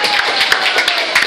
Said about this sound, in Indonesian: Tepuk tangan buat Satgas KDI.